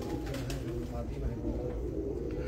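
Pigeons cooing at a pigeon loft, soft low murmuring coos blended with background chatter of people talking nearby.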